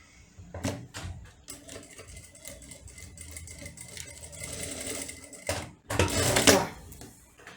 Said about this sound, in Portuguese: Vou fazer uma costura aqui, ó.